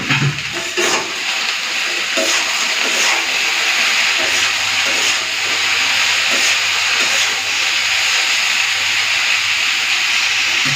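Potatoes frying in a pan with salt and turmeric for onion aloo bhaja, a loud continuous sizzling hiss that stays steady throughout, with a few faint clatters and a low hum joining partway.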